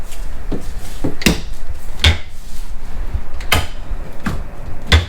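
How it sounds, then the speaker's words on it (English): A deep wooden drawer in the kitchen of a 2024 Alliance 370FB RV opens and shuts in a string of sharp knocks and clacks, spaced irregularly and close up. "And then a really deep drawer."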